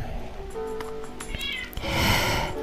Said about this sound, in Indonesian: kucing saya sudah keluar dari kandangnya dan sekarang lagi bawel